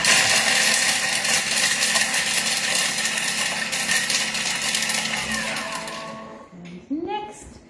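A blender blitzes ingredients for a Thai beef salad, a loud continuous whirring roar that runs steadily for several seconds before cutting off, followed by brief quieter clatter.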